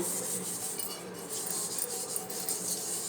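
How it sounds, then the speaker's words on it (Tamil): Steady hand scrubbing across a surface being cleaned, a continuous close rasping rub that holds at an even level for a few seconds with no voices. "இப்போ பாருங்கள் நான் தேய்ச்சி காட்டுறேன்"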